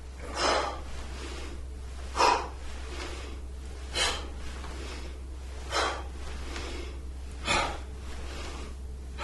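Deep, slow breaths during a tai chi breathing exercise, about five strong breaths spaced roughly two seconds apart, close and clear over a steady low hum.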